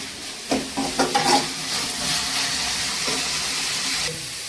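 Tomatoes sauté with salt in a pan, a few quick scraping stirs at the start giving way to a loud, steady sizzle that holds to the end.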